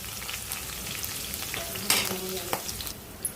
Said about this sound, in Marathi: हिरव्या मिरच्या चांगल्या भाजू द्यायच्या।